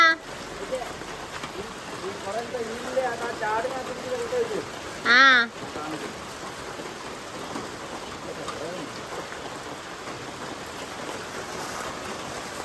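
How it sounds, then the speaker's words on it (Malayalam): Steady rain patters throughout, with a voice talking over it and one brief loud vocal sound midway. "മഴ ഇപ്പൊ ഒന്ന് തുള്ളി മുറിഞ്ഞ്"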